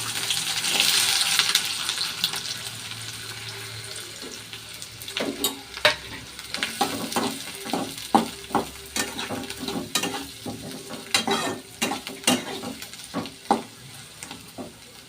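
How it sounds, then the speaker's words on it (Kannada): Sliced onions dropped into hot oil in a pan for a North Karnataka egg stir-fry: a loud hiss at first settles into steady sizzling, broken by sharp spoon clacks against the pan. "ಈಗ ಎಣ್ಣೆ ಕಾದಿದೆ, ಈರುಳ್ಳಿ ಹಾಕ್ತಾ ಇದ್ದೀನಿ."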